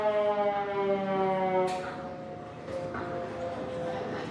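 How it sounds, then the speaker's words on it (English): A wailing air raid siren sounds at a D-Day museum display, its steady rising and falling tones carrying through the hall for a few seconds, then fading and shifting as background noise takes over. "Air raid siren in the background."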